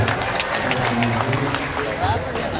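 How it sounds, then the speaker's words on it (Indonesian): Audience at an Indonesian Masyumi party political gathering applauding everyone in attendance, continuous clapping under crowd murmur with voices and faint tones mixed in. "tepuk tangan bagi semua yang hadir"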